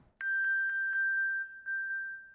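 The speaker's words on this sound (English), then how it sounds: "your iPhone will chime very loudly, and you can find it" An iPhone's find-my-phone alert, triggered remotely from an Apple Watch, rings out as a bright, loud, pulsing electronic tone, about eight rapid repeating pings held on one pitch in a quiet room.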